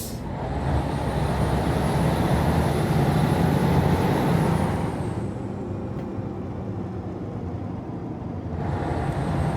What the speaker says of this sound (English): You love the sounds of this truck, Jag?